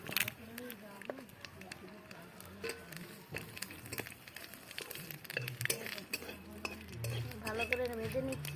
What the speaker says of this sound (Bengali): ভালো করে ভেজে নিচ্ছি।